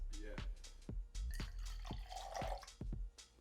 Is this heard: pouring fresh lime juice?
yes